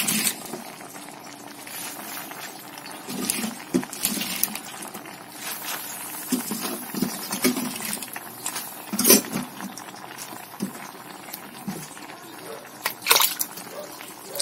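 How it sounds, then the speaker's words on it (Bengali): Spinach leaves go into a pan of simmering dal with boiled ginger, adding a soft rustle and patter over steady bubbling and sizzling, with short sharper bursts as the leaves land. "এবার দিয়ে দেবো এর ভেতরে পালং শাকগুলো এরকম করে উপর দিয়ে দেবো।"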